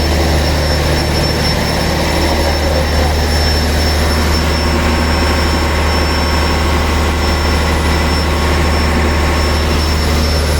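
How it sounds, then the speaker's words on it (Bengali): Two large diesel engines run in the engine room of the Kuakata 2 passenger launch, a very loud, constant, deep roar with a steady mechanical drone and no voices. "এই হচ্ছে কীর্তনখোলা কুয়াকাটা 2 এর ইঞ্জিন রুম।"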